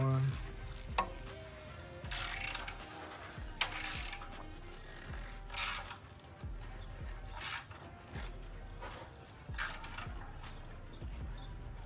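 A wrench tightens bolts on a car, giving repeated ratcheting clicks in short bursts separated by pauses. The sound is close and moderate in level, with occasional faint background sounds.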